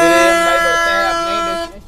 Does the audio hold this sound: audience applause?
no